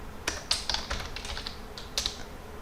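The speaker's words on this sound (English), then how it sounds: "So here let's type it" Computer keyboard typing: scattered bright keystroke clicks in quick irregular bursts, close and moderately loud over a faint background hiss, with no talking.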